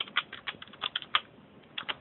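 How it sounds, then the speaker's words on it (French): Quick, light keystrokes tap on a computer keyboard while chatting in Club Penguin, a dozen or so soft clicks in an uneven rhythm, close and fairly quiet, with a short pause before a final pair. "vous tapez quelque chose sur votre clavier, bien sûr"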